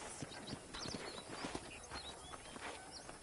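Rhythmic clip-clop of horse hooves at a steady walking pace in a video game, with scattered chirps and soft ambient sounds behind them.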